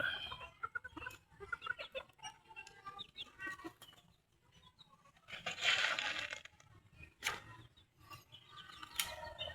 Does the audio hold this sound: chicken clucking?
yes